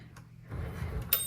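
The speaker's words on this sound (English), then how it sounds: "That's the sound of the bell." A short, bright metallic ding from a 1984 Unis TBM Deluxe typewriter's margin bell rings out once near the end, over a low mechanical rumble and clatter.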